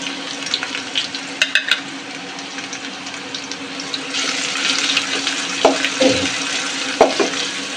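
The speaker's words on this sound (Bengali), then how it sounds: "ভালোভাবে ভেজে ব্রাউন কালার করে নেব।" Chopped onion and crushed garlic fry in oil for a Bengali moong dal, giving a steady loud sizzle with sharp clinks and scrapes of a stirring spoon.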